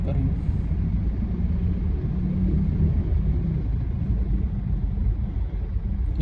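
A Mitsubishi Montero sits idling in traffic, its engine a low, steady rumble that stays constant throughout with faint road noise around it.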